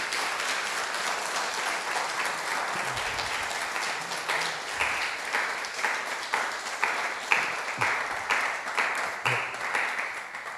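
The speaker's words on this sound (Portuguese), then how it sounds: "Você pode aplaudir o Senhor Jesus?" Sustained applause from a church congregation fills the space, a dense wash of clapping with a few louder individual claps standing out toward the end.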